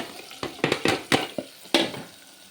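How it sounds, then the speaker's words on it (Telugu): A spoon stirs tempered fried chillies into a pot of cooked dal, making a series of close, irregular scraping clinks and soft wet squelches against the pot, with no speech. "పప్పులో ఇట్లా తిప్పుకుందాం చూడండి"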